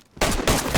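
A weapon spawned in the DayZ video game fires a short, loud, close burst of rapid shots.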